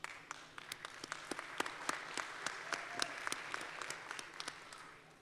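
An audience at a convention session on political and civic engagement breaks into sustained applause, with sharp individual claps standing out from the dense clatter and no one speaking over it.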